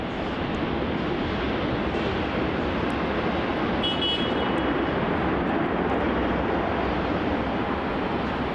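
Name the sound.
Virgin Australia flight VA308 aircraft arriving at Melbourne Airport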